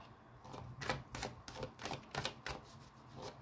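Tarot oracle cards are drawn and flicked one after another, a series of crisp papery snaps and slides, close but soft, with no voice.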